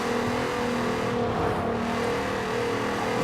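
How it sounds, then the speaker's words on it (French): A Volkswagen Golf 3 with a VR6 engine in the racing game Forza Horizon 4 holds a steady, loud, sustained drone at high revs. It runs continuously with no gaps. "elle a une sonorité perchée à 5000 tours. Vraiment, le son, il est juste magnifique, il est magique."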